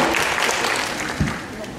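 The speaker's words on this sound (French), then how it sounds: "Je retiens que les applaudissements valent bien acceptation." An audience at a general assembly applauds in a brief, dense wash of clapping that stays fairly loud for under two seconds, with a voice speaking over it.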